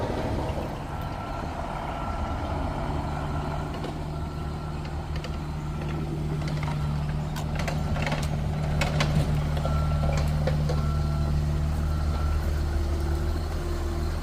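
A work truck idles and rumbles steadily nearby at a roadside washout repair, with a low engine drone and faint intermittent reversing beeps over it, growing slightly louder toward the end.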